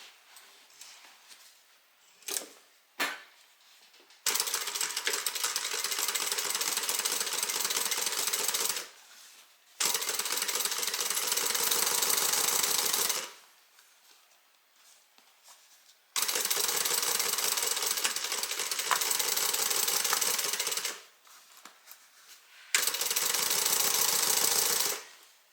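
A sewing machine stitches a bag in long, steady runs of rapid mechanical clatter, with four separate bursts of several seconds each and quiet pauses between them, after a couple of short clicks at the start.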